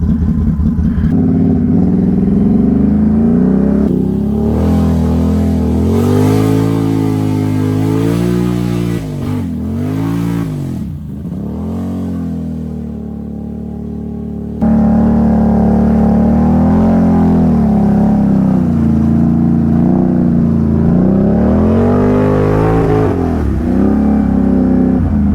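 An ATV engine revs hard while churning through knee-deep, thick mud with the diff lock on, its loud, close roar rising and falling in repeated surges and bogging down briefly before climbing again.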